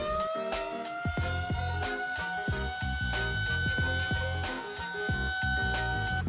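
A hand-cranked air raid siren in Chipping Norton winds up into a loud, sustained rising wail that holds steady and near, with clattering, rhythmic mechanical knocks from the crank running underneath throughout.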